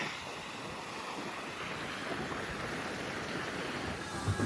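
Wind gusts hard across the microphone at the seashore at Lookout Cay at Lighthouse Point, a constant roaring rush with the wash of surf mixed in.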